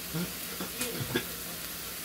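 Steak and chicken frying in a pan for quesadillas, a steady close crackling sizzle running throughout with a few soft stirring clinks.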